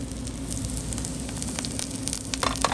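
Eggplant frying in hot oil in a pan gives a steady, close sizzle with dense crackling and a few sharper pops near the end, continuous and alone without any talking.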